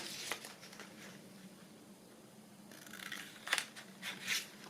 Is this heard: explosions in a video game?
no